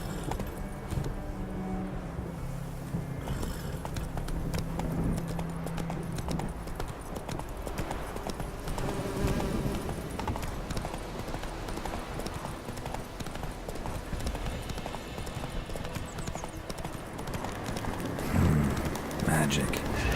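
Roach the horse galloping in The Witcher 3, a rapid rhythmic hoof clatter at moderate distance mixed with game music and ambience, with someone speaking over it.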